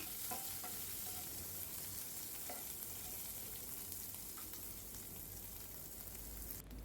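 Crushed ginger and green chili paste fries with spices in a pan, a continuous dense sizzle with occasional stirring scrapes, close and even throughout, no talk.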